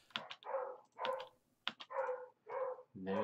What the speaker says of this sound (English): Oh, you hear my dogs in the background?